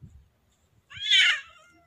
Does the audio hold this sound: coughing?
no